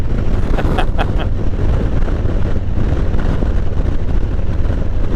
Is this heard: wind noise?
yes